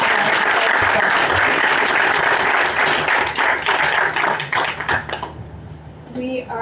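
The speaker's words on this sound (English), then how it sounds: "Maybe a quick round of applause and appreciation for this" An indoor conference audience at a coral reef resilience event gives a loud, dense round of applause that holds steady for several seconds, then thins into scattered claps and fades.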